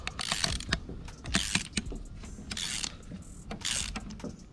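A socket being turned by hand to tighten an AN fitting on a braided fuel hose: a quiet run of small metallic clicks, ratcheting ticks and scrapes, close up, with no talking.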